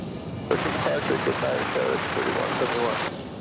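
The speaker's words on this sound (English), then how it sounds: "But coming in on this side is another 757, so let's kind of zoom out and get that for you." A Boeing 757 airliner on arrival at DFW Airport, a steady broadband jet rumble and whine held for about two and a half seconds at moderate distance.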